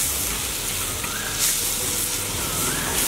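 Steady sizzling hiss of tomatoes sautéing with salt in a clay pot for a Chettinad masala, a soft continuous frying crackle with slight swells, close and alone.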